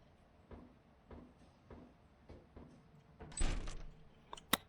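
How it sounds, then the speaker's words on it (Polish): A door in Lethal Company recreated in Minecraft Bedrock: a short, loud clattering burst after a run of soft, evenly spaced thuds, followed by a brief sharp knock. "Drzwi prowadzące donikąd."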